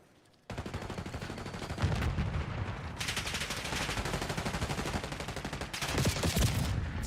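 An AK rifle in Call of Duty Black Ops 6 fires loud, sustained automatic bursts that run almost continuously after a brief quiet opening, with only one short break in the rapid fire.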